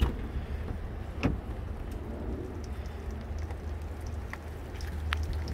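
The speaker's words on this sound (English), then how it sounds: "Kind of raining, so I'm gonna make this quick" Light rain falls at night in Seattle, a soft, steady patter of drops with a few sharper taps close by, quiet and continuous with no voices.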